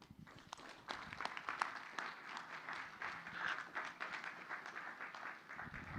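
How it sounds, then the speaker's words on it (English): An audience applauds after a conference presentation on conservation for healthy lands, steady moderate clapping sustained for several seconds, slightly distant. "Hopefully you heard the applause as well."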